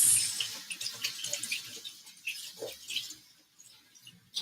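Tap water splashes and trickles in a kitchen sink while sweet potatoes are rinsed, with irregular close splashing and handling noises, fading somewhat before a final burst.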